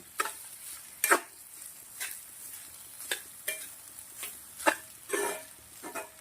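Vegetable butter fried rice stirred and fried in a pan with onions, coriander and pav bhaji masala, a soft sizzle under irregular scraping strokes of a spoon, close by.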